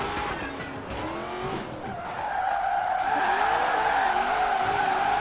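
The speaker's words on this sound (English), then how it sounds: "Now this is drifting." Tires screech in a long continuous skid as a 1968 Mustang GT drifts in Forza Horizon 4, the squeal rising and holding loud over the engine drone for several seconds.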